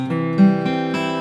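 A single cleanly strummed acoustic guitar chord rings out close and clear, its sustained notes followed by a couple of lighter re-strums.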